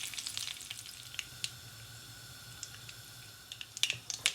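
Mustard seeds and urad dal fry in hot oil for Indian masala potatoes, a quiet steady sizzle broken by scattered sharp pops and crackles, thickening toward the end, with no voices.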